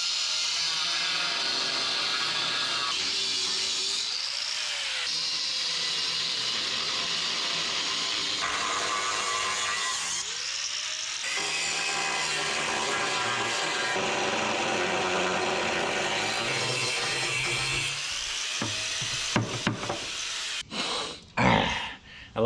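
A 1963 Loadstar truck frame is cut with a power saw, a continuous loud, harsh metal-cutting grind that holds steady for about twenty seconds, then breaks into a few short clanks and bursts as the cut finishes.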